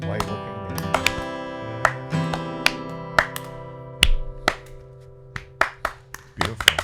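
Sparse, uneven hand claps from an audience on a comedy show, scattered in irregular bursts over a sustained musical chord, with some voices mixed in.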